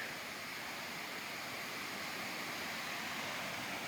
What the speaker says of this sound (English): There's a little cascade.